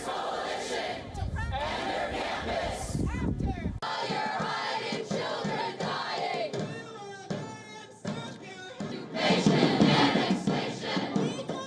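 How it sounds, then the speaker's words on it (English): A large pro-Palestinian protest crowd at Columbia University chants loudly and continuously in rhythmic unison, with dense overlapping voices and shouting filling the scene throughout. "The crowd in Columbia was chanting for Hamas."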